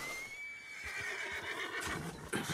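A horse in Red Dead Redemption 2 gives a drawn-out, fairly close whinny over soft hoof clip-clops and snorting breaths, with no speech.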